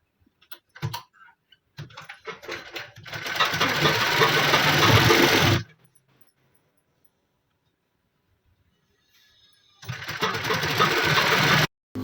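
A sewing machine double-stitches folded fabric for a coat-collar shirt, starting with a few short bursts and then running in a loud, steady, close whir. After a pause it starts up again for a second sustained run.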